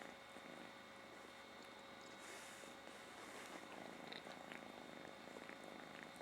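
A cat with a cold and chest congestion purring close up, a soft continuous rumbling purr with faint wheezy, snuffly breathing mixed in, quiet and steady throughout.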